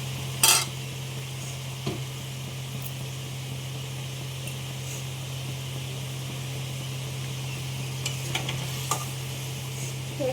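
A pan of onion prawn curry simmers with a steady low bubbling hiss and a constant hum, while a utensil scrapes and taps against the pan a few times.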